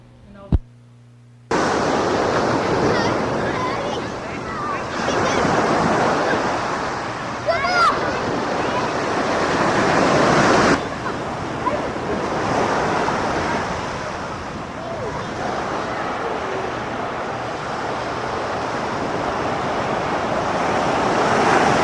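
Ocean surf at Balboa Island, Newport Beach, in Southern California, sounding as a broad, continuous wash of waves mixed with wind buffeting the microphone. A voice speaks over parts of it.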